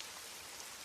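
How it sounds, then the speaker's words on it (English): Steady rain lashes down in a dense, even hiss of countless drops, close and unbroken with no voices. "Rain lashed against the windows"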